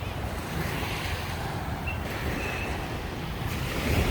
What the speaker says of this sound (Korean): 파도 소리 좋다 그지요?